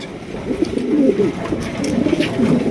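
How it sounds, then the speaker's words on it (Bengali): Lakka pigeons cooing repeatedly in steady rolling bursts, fairly close and loud, with no talking over them. "লক্ষ কবুতর এত কিন্তু ডাকে না দেখেন এটা কিন্তু মনে করেন যে মাঝিরে ইমপ্রেস করার জন্য যতটা ডাকতেছে"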